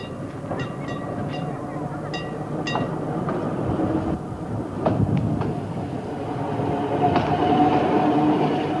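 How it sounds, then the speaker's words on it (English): A Sheffield tram rumbles steadily along a street with faint clicking and rattling wheel noise, growing slightly louder toward the end, with no voices. "Today, a Sheffield tram is in use"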